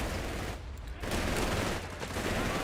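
Sustained MG42 machine gun fire from a Company of Heroes 3 match, a dense continuous rattle with a brief dip near the start, loud and steady throughout with no talk.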